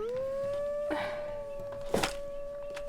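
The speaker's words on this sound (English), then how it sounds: "Oh, they're going to howl again." A lone drawn-out wolf howl from WolfQuest rises and holds steady near the front, with a couple of soft thumps and faint rustles around it and no talk.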